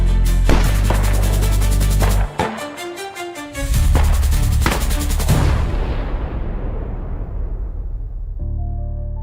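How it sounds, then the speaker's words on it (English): Rapid bursts of gunfire crack out, then a thunderous explosion booms and rolls off into a long, fading rumble, all loud and close in a horror-mystery setting. "gunshots rang out, followed by a thunderous explosion"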